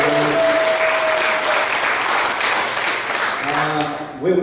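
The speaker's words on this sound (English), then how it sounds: "Big cheer for Ingrid." Audience applause and cheering for Ingrid at a whale conference, loud sustained clapping from a crowd with a voice speaking over it near the end.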